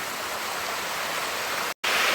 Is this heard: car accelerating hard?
no